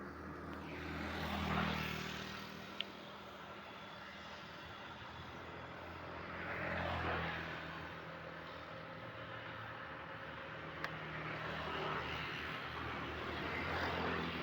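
A Batik Air airliner preparing for take-off produces a faint, distant, steady engine roar that swells and fades slightly over several seconds.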